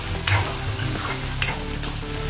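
Ginger garlic paste stirred and fried in hot oil for a stuffed karela dish gives a dense, steady sizzle, with a few sharp scrapes of a spoon against the pan, close up and without speech.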